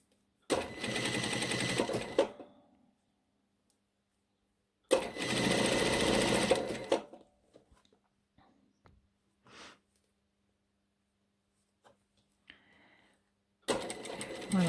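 Sewing machine stitching a hidden seam on a nightgown, running in three separate loud bursts of rapid, even whirring with quiet pauses and faint handling noises between them.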